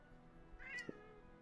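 A pet cat named Snowy gives a single faint, drawn-out meow seeking attention, quiet and close against a low background hum in an indoor home setting.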